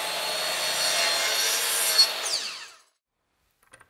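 A Kreg Adaptive Cutting System saw cutting wood at a 45-degree angle makes a steady close whirring cut that ends abruptly. A couple of faint clicks follow in near silence.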